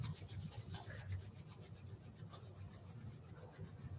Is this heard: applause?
no